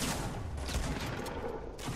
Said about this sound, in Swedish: Någon mer skjuter någonstans?